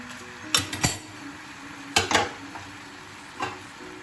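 Mixed vegetable curry with jackfruit seeds is stirred in a pot, with sharp metallic clanks of spoon and lid striking the rim in short bursts over a light simmering sizzle.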